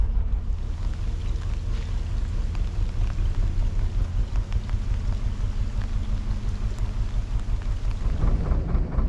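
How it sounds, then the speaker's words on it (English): Steady rain pours down on a canal boat with a dense, constant hiss and low rumble, heard close and without any talking. "it's just started properly raining now"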